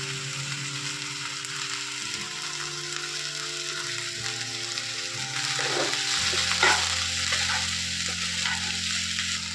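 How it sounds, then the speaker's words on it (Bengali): Chopped cabbage for veg momo filling hisses in a hot pan as it is stirred, with a steady close sizzle that gets louder partway through, some scraping of the spoon, and a low hum underneath; no one speaks. "এবার আমি বাঁধাকপিটা যে কেটে রেখেছিলাম এটাকেও দিয়ে দিচ্ছি।"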